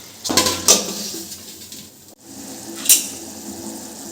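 Clinks of metal cookware sound as a lid goes onto a pot of bottle gourd cooking in water, two separate sharp clanks with quiet kitchen bustle between.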